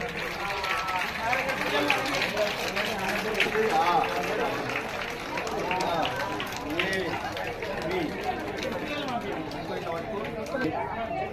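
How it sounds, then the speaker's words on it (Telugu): Crowd at a mass literacy ceremony in a government primary school, with steady, sustained clapping mixed with busy chatter and voices throughout, moderately loud and close. "మనం చప్పట్లు ఆపకుండా"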